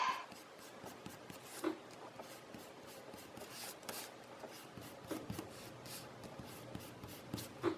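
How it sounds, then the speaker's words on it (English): A kneaded eraser rubs out pencil marks on paper, quiet close-up scratchy brushing strokes in irregular bursts with soft rustles of the sheet between them. "And then I'm gonna erase all those pencil bits."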